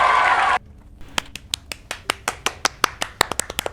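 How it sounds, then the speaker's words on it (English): A pair of hands claps alone in a quiet space, a dozen or so sharp, evenly spaced claps in a steady rhythm after a short burst of noise at the start. "See, that's the sound of clapping"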